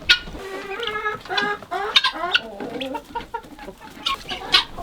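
Several chickens cluck and squawk close by in overlapping, irregular bursts, with no voices.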